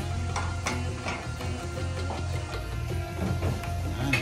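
Food frying in an Indian home kitchen, where rice is also being cooked, with a soft steady sizzle and faint clinks of stirring throughout, fairly quiet and close.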